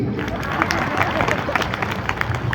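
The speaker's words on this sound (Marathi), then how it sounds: "एकदा टाळ्या होत्या स्वतःसाठी." A large crowd at a Bhima Koregaon Shaurya Din rally in Wardha bursts into sustained applause, many hands clapping densely with cheering and crowd babble underneath.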